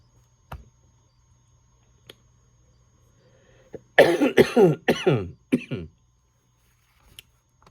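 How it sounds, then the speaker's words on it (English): A burst of several rough coughs comes close together mid-clip, preceded by a few faint clicks, in an otherwise quiet room with no speech. "Excuse my coughing."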